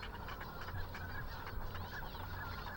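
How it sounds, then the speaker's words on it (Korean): A wintering flock of ruddy shelducks on a stream in Cheonsu Bay gives repeated honking, goose-like calls that overlap in a continuous dense chorus, with a few louder calls standing out from the steady din. "기러기나 일반 오리떼와는 별도의 무리를 이루어 서식하는 황오리"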